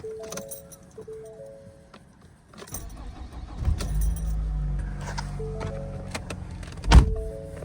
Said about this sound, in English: Cold start on Katie's car